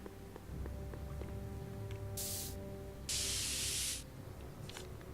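Spray can in the Back to the Future video game gives two sharp hissing bursts, the first short and the second longer and louder, over a steady background hum.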